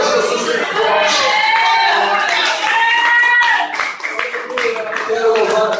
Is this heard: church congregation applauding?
yes